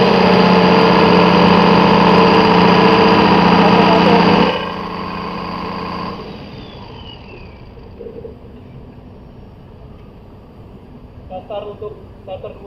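Clarke diesel fire pump engine, newly installed and run from its control panel during commissioning, droning loud and steady, then cutting off abruptly and winding down to a faint, quieter hum with small clicks.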